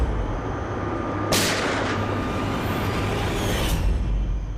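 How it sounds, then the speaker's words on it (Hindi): A single sharp gunshot cracks inside a jolting van, over the rumbling vehicle interior, its echo trailing off as the engine noise continues. "गाड़ी हिल गई और विक्रांत भी थोड़ा गिर गया, और मेरा भी संतुलन बिगड़ गया और गोली चल गई"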